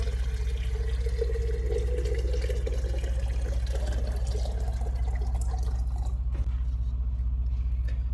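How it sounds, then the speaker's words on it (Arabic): Boiled water pours into a glass teapot, a steady close stream of liquid for about six seconds that fades out before a brief clink and quiet. "وننزل الماء، طبعا ماء مغلية"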